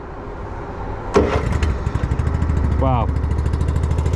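Small engine on a VSI Legacy Series 750 liquid deicing sprayer starting up with a sharp crank burst, then settling into a rapid, steady chugging idle, with a brief spoken exclamation over it.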